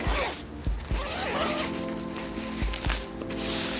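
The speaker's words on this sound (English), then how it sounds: "First, you want to take your tent out of the bag." A tent being pulled out of its storage bag: steady rustling of fabric with a zipper pulled in short strokes, close by.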